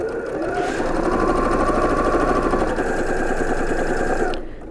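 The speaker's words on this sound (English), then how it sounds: "And I'm just going to sew around this rectangle." A sewing machine runs steadily while stitching around a fabric apron rectangle, giving a loud, close, even mechanical whir that stops abruptly near the end.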